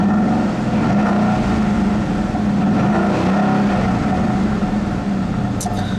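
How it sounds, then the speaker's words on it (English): A 2013 Ford Mustang Boss 302 V8 runs steadily and loudly close by, a dense continuous engine rumble filling the whole stretch without a break. "I never get tired of listening to that engine every time it starts."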